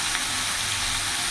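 A katla fish head fries in a pan while being stirred, giving a loud, dense, steady sizzle right up close with no pauses and no voices.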